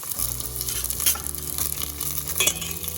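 Mutton biryani ingredients hiss and bubble in a pot on a hot stove, a dense, loud sizzle with soft crackles and a couple of brief metallic stirring scrapes.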